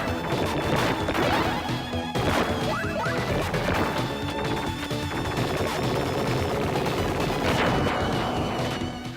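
Rapid, loud gunfire from the Sega Genesis game Alien Soldier: continuous clattering shots with sharp crashing impacts over game music, steady and dense throughout.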